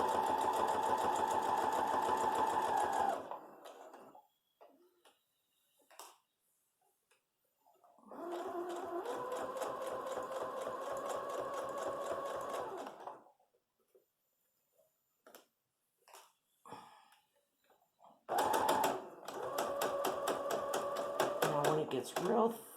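A sewing machine stitches a fabric face mask in three separate runs, each a steady buzzing whir lasting several seconds, with brief quiet gaps and faint handling noises between the runs.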